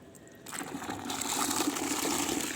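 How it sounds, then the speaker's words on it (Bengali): Water poured into soaked mustard cake to make liquid fertilizer, a soft trickle that starts abruptly and swells into a steady close gurgling pour, with no speech. "ভিজে সরিষার খোলে পঁচিশ লিটার জল মিশিয়ে"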